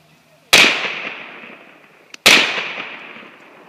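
SKS rifle firing at a concrete target, two loud sharp shots about 1.7 seconds apart, each with a long ringing outdoor decay.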